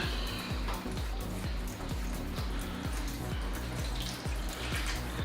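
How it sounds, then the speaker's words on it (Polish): Water pours steadily and continuously into a shallow baking tray holding four jars, with a rhythmic low thumping in the background throughout. "Dolewam tu wody."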